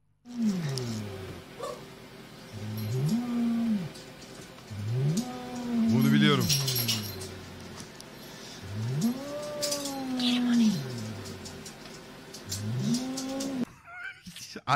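A cat gives a series of long, drawn-out meows and yowls, loud and close, repeating every couple of seconds over faint background noise.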